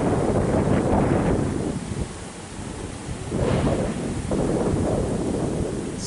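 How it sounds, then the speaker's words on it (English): Strong gusts buffeting a microphone on a windy railway platform, loud rumbling bursts that ease and surge again, continuous throughout with no voices. "Sorry about the shakiness, it's pretty windy."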